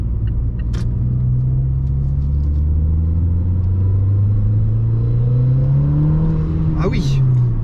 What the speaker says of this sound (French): Nous sommes contents pour ce petit essai rapide de cette belle Mazda.